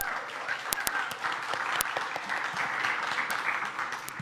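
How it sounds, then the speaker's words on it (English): Audience applause at a Lemonade Day event, a moderate, steady patter of clapping from a small crowd with a few sharp louder claps standing out nearby. "Round of applause for these guys."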